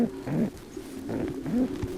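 Soft, low pigeon cooing, two rolling coos close by in a quiet setting.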